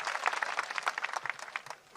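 A crowd at a gathering claps for guests, leaders and artists, a brisk burst of lively applause with dense overlapping claps that tapers slightly toward the end.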